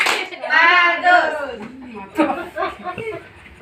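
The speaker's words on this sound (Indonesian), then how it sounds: "kita tepuk tangan buat kelompok 3, itu tepuk tangan bagus" A group of people clapping for a team of participants at a community stunting-prevention class session, with short bursts of claps mixed with close, lively voices and some chatter and light laughter throughout.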